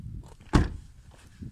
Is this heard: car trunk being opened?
yes